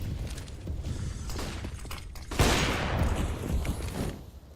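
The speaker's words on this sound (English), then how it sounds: "Oh, that's a big headshot" A gunshot headshot during a Counter-Strike esports match, a sharp crack followed by mechanical clatter and a rush of noise, loud and close amid dense in-game action.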